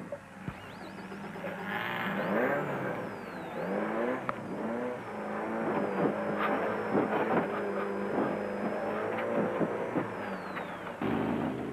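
A Castrol Toyota Hilux 2.7i off-road race truck engine runs and revs continuously during the Lesotho Sun 400 desert race, a steady mid-pitched drone with gear-change surges, heard close and loud throughout.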